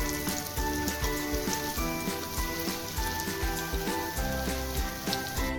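Dahi vada fritters deep-frying in hot oil, a constant bubbling sizzle under a faint steady tone and soft repeated clatters, with no voices.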